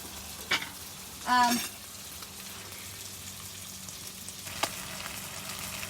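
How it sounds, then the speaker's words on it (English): Noodles for seafood pad Thai are stir-fried in a pan, giving a soft, steady sizzle with a few sharp scraping clicks of a utensil against the pan. "you stir fry the noodle maybe for 10 seconds"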